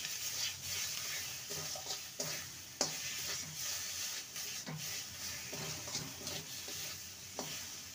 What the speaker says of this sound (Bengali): ধনেপাতা কুচি দিয়ে ভালো করে নেড়ে নেব